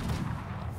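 A gunfire volley from a line of musket troops in the Conqueror's Blade game, a dense, rumbling burst of overlapping shots sustained through the short moment without any gaps.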